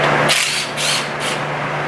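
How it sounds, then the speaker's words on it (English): A power tool backs out bolts holding a gear guide during an installation, three short buzzing bursts close by over a steady hum. "now I'm going to take these two bolts out right here, which holds the guide"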